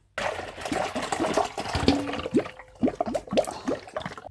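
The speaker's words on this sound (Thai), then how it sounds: "เราจะเทน้ำลงถังหมักค่ะ" Water pours and splashes into a fermenting tank while making apple syrup peach wine, with gurgling and sloshing that rise and fall for several seconds.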